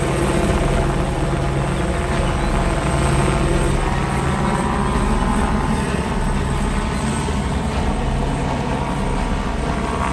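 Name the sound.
police helicopter overhead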